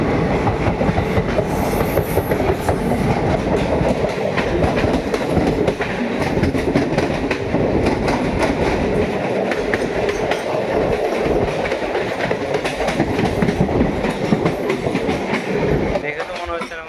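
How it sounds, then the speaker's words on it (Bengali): A local train runs past at good speed on a railway line, a loud continuous rush with rhythmic wheel clatter over rail joints and a brief squeal as it clears, voices faintly under it. "আর একটি ট্রেন আসছে, ট্রেনটা ভালো স্পিডে আছে।"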